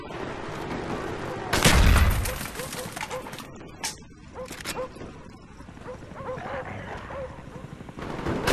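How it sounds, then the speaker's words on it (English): Attack dogs bark in short bursts amid loud gunfire and explosions in Call of Duty: Black Ops, with battle noise and a voice speaking briefly. "Friendly dogs inbound."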